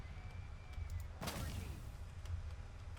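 Gunfire in the War Thunder combat game, a single loud burst near the middle followed by a decaying rumble, set over a steady low engine drone with no talk.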